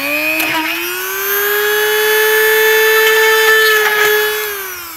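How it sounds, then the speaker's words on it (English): Dremel rotary tool drilling holes through an Iron Man helmet faceplate, a loud steady high whine that rises slightly in pitch and holds for several seconds, close up, with no talking. "just pop some holes in it with the Dremel"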